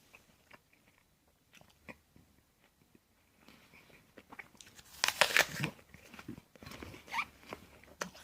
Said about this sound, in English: Very crunchy, tough. Even the way it's unpleasant when you try to bite it.